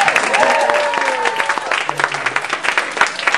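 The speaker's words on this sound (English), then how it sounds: "Clap it up for the wife." Open mic night crowd clapping for a performer's wife, loud sustained applause with scattered whoops and a few distinct sharp claps near the end.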